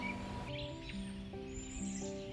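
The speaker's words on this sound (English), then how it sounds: "the blue jays, red-breasted robins, and dark-eyed juncos busy themselves with all the important things required to survive a long" Winter songbirds such as blue jays, red-breasted robins and dark-eyed juncos give faint, scattered chirps and short calls at a distance, set over a soft sustained tonal backdrop.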